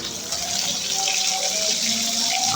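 Small puti fish (pool barb) from the Meghna River frying in hot oil make a steady, loud hissing sizzle throughout, close by, with no voices.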